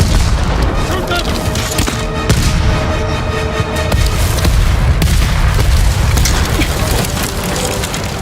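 Loud, dense battle noise from Ghost of Tsushima, continuous booms and gunfire with a constant rumbling roar and shouting voices mixed in.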